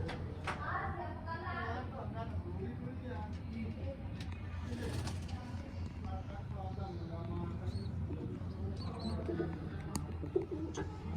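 Pigeons cooing softly in repeated low, throaty calls, with people talking over them nearly the whole time.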